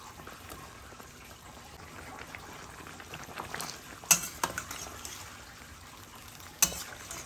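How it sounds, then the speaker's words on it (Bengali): Vegetables such as ridge gourd being stirred in a pot while cooking Bengali shukto, a soft steady bubbling sizzle with a few sharp clicks of a utensil against the pot toward the end. "খুব ভালোভাবে মিশিয়ে দেব।"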